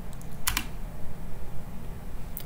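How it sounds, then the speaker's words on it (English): Keys on a computer keyboard clack in a quick burst of a few sharp strokes, then a pause and another tap, close and clear with no talking. "It's just interesting typing these commands and seeing what happens."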